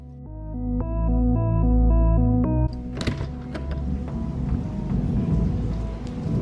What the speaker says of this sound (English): It is still raining here.